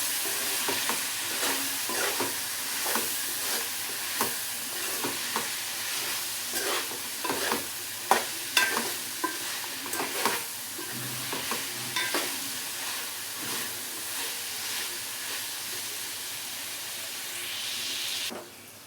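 Vegetables for meal maker pulao cook in a pan under a constant low sizzle, with repeated utensil scrapes and clacks as they are stirred, then a longer hiss near the end.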